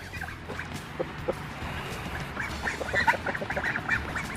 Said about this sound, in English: There's the teenage ducks, always messing with stuff.